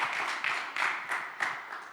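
Audience applause inside a church, a steady wash of many hands clapping at moderate volume through a short stretch, with no clear voices.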